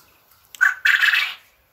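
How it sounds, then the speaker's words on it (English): Quail calling in the background of a backyard poultry setup with chickens and meat birds, a brief chirping call followed by a longer, louder burst of bird vocalization, then quiet. "I have the quail in the background"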